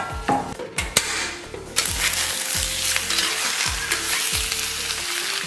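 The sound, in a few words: pork belly sizzling in a pan, rendering fat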